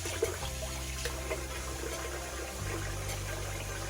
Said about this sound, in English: Rinse my head off here.